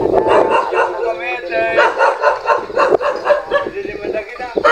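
A puppy barks and yips in short bursts near at hand while a woman chatters over it in a busy outdoor setting.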